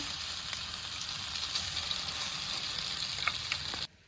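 Zambare batter sizzles steadily in hot oil in a pan, a dense continuous frying hiss with a few small pops, close and fairly loud, cutting off abruptly near the end.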